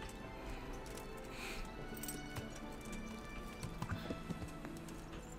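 Horse hooves clip-clopping in the video game Kingdom Come: Deliverance, faint and irregular beneath a constant outdoor ambient hiss.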